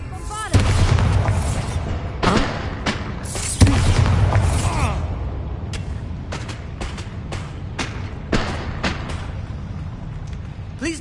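A Bombarda blasting spell cast in Hogwarts Legacy sets off a series of booming blasts and sharp cracks, loud and near, with a voice speaking over the opening explosions.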